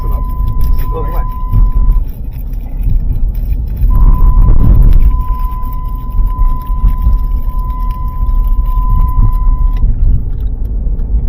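Seatbelt reminder chime inside a Jeep Liberty: a steady electronic tone sounds briefly, pauses, then returns and holds for several seconds over engine rumble and cabin noise.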